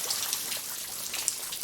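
Light rain falling outdoors, a soft continuous hiss with scattered small drop ticks, steady and fairly quiet with no voices.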